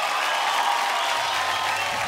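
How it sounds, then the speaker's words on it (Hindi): Loud, continuous applause from a studio audience on a TV show, a dense, steady wash of clapping with no break and faint crowd murmur beneath. "जोरदार ताली।"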